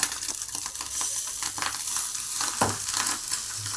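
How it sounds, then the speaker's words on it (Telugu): Fish roe omelette, made with green chillies like an egg omelette, sizzles and fries steadily in a pan, with a broadband crackle and scattered sharp pops and ticks throughout and no voices. "ఆమ్లెట్ అయితే వేస్తుంది"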